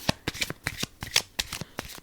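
A deck of playing cards being shuffled repeatedly, with quick riffling bursts in a steady rhythm, close and fairly quiet, with no talking.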